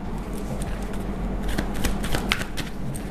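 Tarot cards are shuffled and drawn by hand at close range, a dense run of soft riffling and papery flicks with a few sharper snaps toward the end, heard with no voices.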